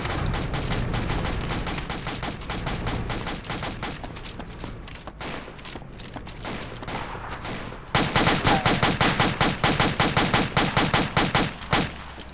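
Video game gunfire from an airfield battle: sustained bursts of rapid machine-gun fire, loud and near, with a steady rattling rhythm that grows sharper and heavier in the final seconds.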